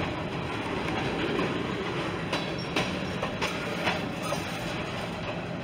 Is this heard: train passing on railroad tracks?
yes